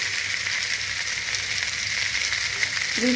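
Cauliflower pieces frying in a pan, cooked for a cauliflower-potato poppy seed dish, give a steady, dense sizzle that stays close and even throughout, with a faint scrape near the end.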